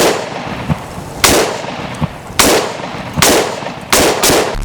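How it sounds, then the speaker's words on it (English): Four sharp, loud M1 Garand rifle shots ring out in an uneven rhythm, each with a reverberant tail, as the rifle fires at a PS5 controller, with a small quick crack between blasts. "He's going to be shooting at that little battery down there."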